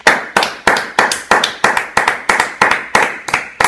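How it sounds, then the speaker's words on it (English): Rhythmic clapping at a talk show, about a dozen sharp, evenly spaced claps roughly three per second, loud and close, with no voices. "Let's give ourselves a round of applause."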